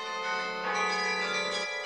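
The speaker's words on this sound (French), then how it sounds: "Le son des cloches, c'est la musique qui a bercé son enfance" Church bells ring in a short, sustained peal of bright overlapping tones, steady and moderately loud with no voices.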